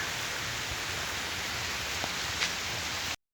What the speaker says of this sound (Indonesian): Udah nggak terlalu ini hujannya, udah mendingan.